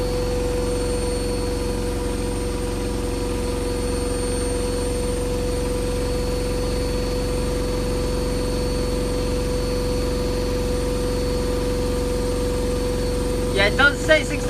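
A washing machine on a spin-only cycle at 1400 RPM holds a loud, steady whirring hum with fixed tones throughout, then a few brief knocks near the end.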